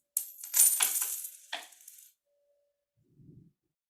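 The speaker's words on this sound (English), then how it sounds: "A bunch of coins fell." A bunch of coins drops onto a well-insulated floor: a sharp bright clatter and jingling burst, a second smaller clink, then silence before a faint low thud.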